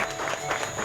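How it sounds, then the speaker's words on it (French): Applause from an audience at a store inauguration in Martinique, greeting the top salesman, a dense wash of clapping with crowd noise and a voice speaking over it. "vous allez l'applaudir très fort, c'est Eric"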